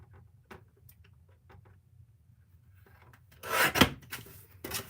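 A brief, close scraping cut through card from a floral gate craft kit, following a stretch of faint taps and light handling noises.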